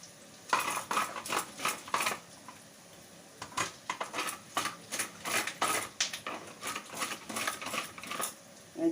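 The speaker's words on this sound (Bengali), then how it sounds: "এই যে টমেটোটা গ্রেট করে নিলাম।" A tomato rubbed against a grater at close range, giving quick rasping strokes in an uneven, repeating rhythm with brief pauses between bursts. No one speaks.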